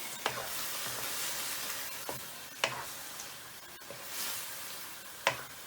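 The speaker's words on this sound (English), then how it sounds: "Just mix this around a little bit first." Tinned tomatoes being stirred into a pasta bake sauce in a pan, a soft steady sizzle with a few sharp spoon scrapes and taps against the pan, close and moderately quiet, no talking.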